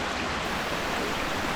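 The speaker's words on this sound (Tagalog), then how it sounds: "kung mapapansin nyo, may tunog ng tubig dyan na gumagasgas" Steady rushing of flowing water from a stream or small falls on a hiking loop near Grassi Lake, a continuous broadband wash filling the short stretch with no voices.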